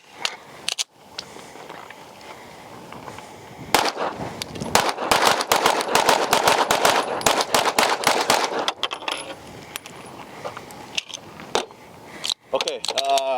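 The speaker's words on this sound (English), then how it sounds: "this gun shoots really good" An Atlas Gunworks Apollo 2011 pistol fires a fast string of sharp, loud shots in quick succession, with a few isolated reports before and after the main volley and brief voices around them.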